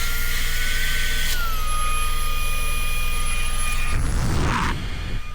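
A portable vacuum cleaner runs on its high setting with a loud, steady whine and whoosh. The pitch drops slightly as it changes, followed by a brief rougher burst of air near the end.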